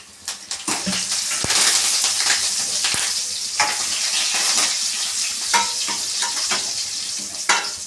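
Curry leaves dropped into hot oil for a tomato sambar, a loud continuous crackling sizzle with bursts of popping and spitting at close range, no voices.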